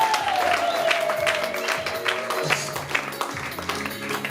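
A church congregation claps for Jesus during a healing service, a crowd of hands beating steadily beneath a sustained musical tone, moderately loud and fairly close.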